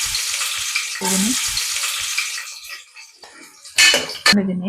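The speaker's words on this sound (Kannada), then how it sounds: "ನಾನೀಗ ಈರುಳ್ಳಿನ ಒಗ್ಗರಣೆಗೆ ಹಾಕ್ತಿದ್ದೀನಿ" Onions frying in tempering oil for an egg and chicken sambar, a steady loud sizzle broken by brief pauses and sharp clinks of utensils against the pan, with a voice speaking briefly in between.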